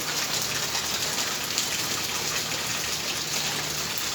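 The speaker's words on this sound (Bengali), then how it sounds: "বৃষ্টি হচ্ছে সারা রাত বৃষ্টি হয়েছে" Steady, dense rain pouring down and pattering on surfaces, close and continuous, with no voices.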